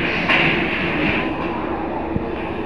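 A train rolls through Mathura Junction station with a steady, broad rumble and rushing hiss, a brief metallic clunk near the end, heard close with no voices.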